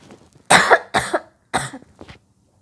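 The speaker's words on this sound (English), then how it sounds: "Sorry for the cough." Three loud, harsh coughs in quick succession, close by, followed by a softer trailing cough.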